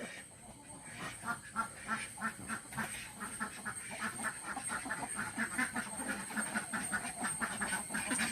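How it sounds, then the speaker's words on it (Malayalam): Ducks quacking repeatedly in a steady, busy chorus, fairly close, where ducks and chickens are kept, with a constant high hiss in the background. "കോഴിയും താറാവും ഉണ്ട്"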